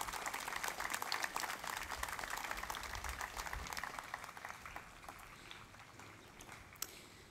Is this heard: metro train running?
no